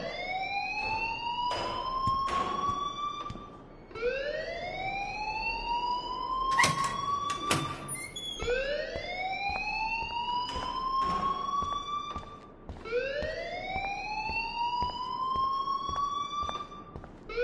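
A wailing alarm in the game Life is Strange, rising sweeps repeating roughly every four seconds, loud and close, with sharp clattering bangs breaking in between the cycles.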